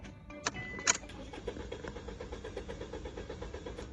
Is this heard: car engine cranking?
yes